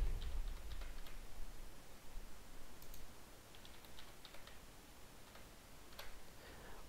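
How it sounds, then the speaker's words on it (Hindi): A password is typed on a computer keyboard, with quiet, sparse key clicks spread unevenly over several seconds against a faint background hiss. "अपना पासवर्ड यहाँ पे एंटर करें"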